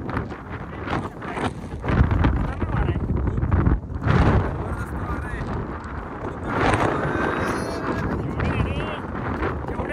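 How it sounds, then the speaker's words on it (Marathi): Strong monsoon wind gusting across Lohagad Fort on a misty trek, a steady blustery roar buffeting the microphone with louder gusts around the middle, while people talk underneath. "तेवढंच वारं प्रचंड आहे."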